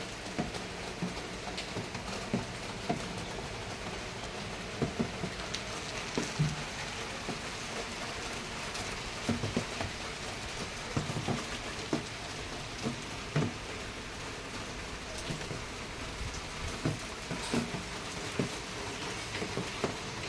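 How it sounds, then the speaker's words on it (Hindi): Steady rain pours down with a dense, even hiss, and scattered louder drops patter on a nearby surface throughout. "बहुत तेज़ बारिश हो रही है"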